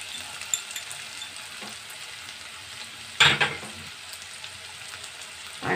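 Chopped onion, capsicum and green chilli frying in a pan for paneer Manchurian, a soft steady sizzle with occasional stirring scrapes and one louder clatter midway.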